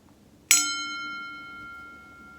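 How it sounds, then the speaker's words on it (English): A meditation bell struck once, giving a clear bright strike followed by a long, slowly fading ring with steady overtones, alone in a quiet room. "I'll ring the bell for us to begin"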